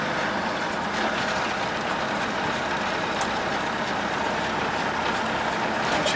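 A 1988 Land Rover 110 with a 300Tdi diesel engine drives along at a steady pace, producing a constant rumble of engine and road noise with no talking.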